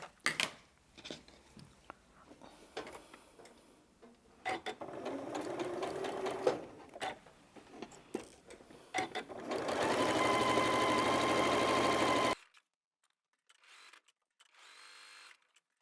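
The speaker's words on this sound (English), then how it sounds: "I'm going to sew all the way around all 4 edges" A sewing machine stitches around all four edges of half-square quilt triangles for a mosaic table runner, its motor whirring in short bursts and then one long steady run before stopping, with no talk.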